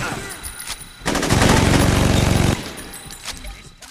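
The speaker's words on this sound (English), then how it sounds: "I can't even see who's shooting over here" Gunfire in a shootout in Saints Row 2, a loud sustained burst of rapid automatic fire lasting about a second and a half, with scattered quieter shots around it.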